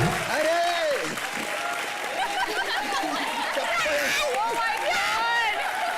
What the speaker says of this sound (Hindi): उषा जी के लिए जोरदार तालियां हो जाए।